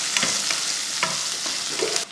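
Onion and whole spices sauté in a pan for a masala, giving a continuous close sizzle broken by several brief stirring scrapes, with no talking.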